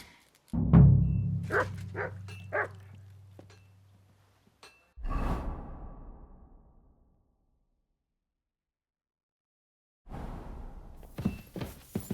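A dog in the medieval game Kingdom Come: Deliverance 2 gives a quick run of loud, close barks, then a pause and a second burst, with quieter game ambience after a stretch of silence.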